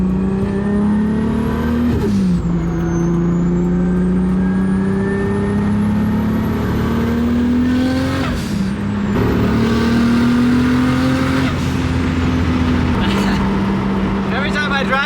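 A Toyota MK3 Supra engine revs loudly and continuously under throttle, its pitch rising and dropping in several sweeps as the throttle is worked.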